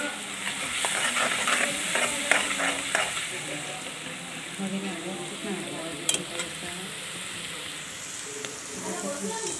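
A paste of ginger, green chilli and cumin cooks in a pan, sizzling softly under intermittent scraping and stirring clatter, with a faint voice in the background.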